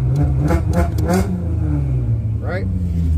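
A Cadillac STS engine fitted with a Roar pedal throttle controller revs in a few quick jabs, rising and falling bursts close by, with someone talking over the engine sound.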